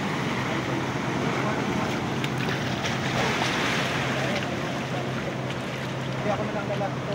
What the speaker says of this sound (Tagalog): Malakas ng alon de, pa high tide na.